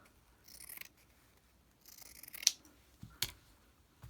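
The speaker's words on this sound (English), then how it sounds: "I might just cut a piece off instead." Scissors snip through a piece of scrap fabric, a couple of crisp, close cuts standing out against a quiet room with faint rustling.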